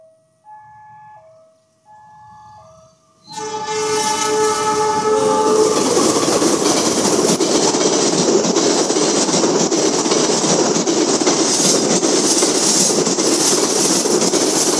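Two horn blasts sound first, then the Wijaya Kusuma train roars loudly past the station, its wheels clattering over the rails in a sustained, close rumble that fills the rest of the clip.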